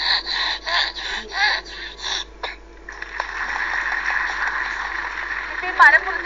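A voice imitates the rasping back-and-forth of a saw cutting wood: a run of rhythmic strokes followed by a longer continuous scraping drone, close and fairly loud with no other talk over it.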